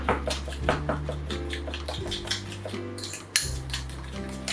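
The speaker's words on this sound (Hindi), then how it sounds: "अब इसको करेंगे हम अच्छे से मिक्स।" A spoon clinks and scrapes against a bowl as tikka masala spices are mixed into yogurt, in short irregular taps under steady background music.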